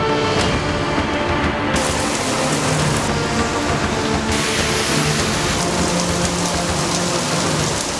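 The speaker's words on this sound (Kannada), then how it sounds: "ಬಿಸಿಲಿಂದ ಬಸವಳಿದ ಎಡೆಗೆ ಮಳೆ ತಂಪೆರೆಯುತ್ತಿದೆ." Steady monsoon rain pouring down outdoors, a dense, continuous hiss of drops on surfaces that stays loud and even throughout with no voices.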